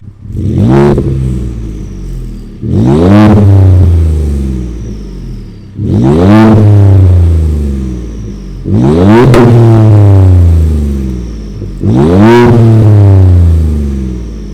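A 2015 Ford F150 pickup with a 4-inch catback exhaust and 5-inch tip revs five times in succession, each rev rising in pitch and falling back, deep and loud with brief idle gaps between.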